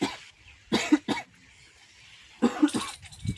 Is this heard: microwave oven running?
no